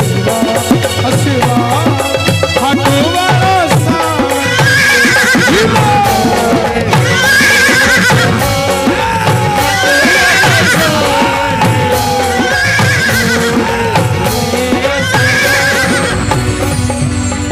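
Horse neighing and whinnying repeats across a loud devotional song, the blue horse of Baba Shyam at a Khatu Dham bhajan, with music and singing throughout.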